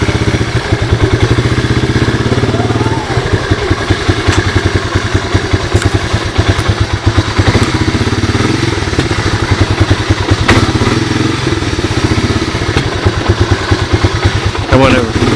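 A 1985 Honda ATC 250SX three-wheeler idles steadily, a loud, close, rattly engine putter running unbroken throughout, with someone talking over it.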